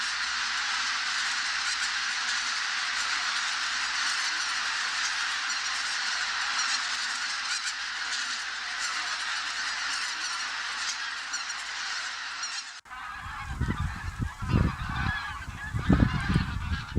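A large flock of bean geese gathered on autumn harvest fields, honking densely and continuously at a distance, then a few nearer, louder bursts of honks toward the end.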